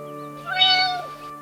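A single drawn-out cat meow rises and falls over a steady background hum.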